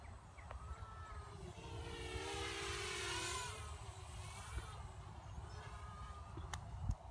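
Vortex FPV racing drone on its maiden flight, banking around overhead: a thin whining motor buzz that rises and dips in pitch at moderate distance over outdoor background noise.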